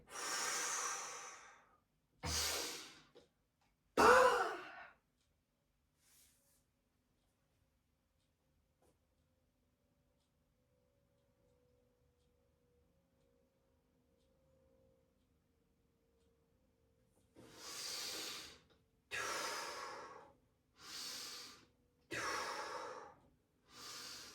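During an exercise, a person breathes deeply in and out close by, a cluster of breathy exhales and inhales, a long near-silent pause with a faint hum, then a steady series of evenly spaced breaths.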